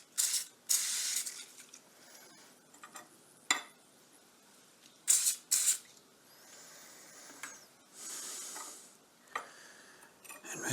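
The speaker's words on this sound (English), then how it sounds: "the side that I mark I'm going to spray with anti-spatter" Short bursts of anti-spatter spray hiss from an aerosol can onto metal before MIG welding, several quick sharp blasts spaced apart with quiet handling sounds between, close and alone.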